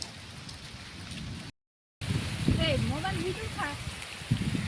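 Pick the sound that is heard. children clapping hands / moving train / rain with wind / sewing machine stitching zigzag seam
rain with wind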